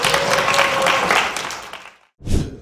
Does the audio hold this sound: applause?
yes